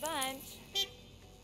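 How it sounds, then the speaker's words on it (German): A car horn in the Gas Station Simulator video game sounds in a short wavering toot, then a second brief honk follows a moment later, fairly faint. "Wer hupt denn da?"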